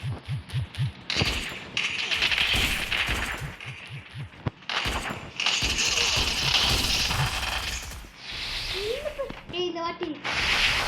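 Gunfire in the mobile battle game Free Fire comes as scattered bursts and sharp single shots mixed with crashes and effects, with excited talk running over much of it.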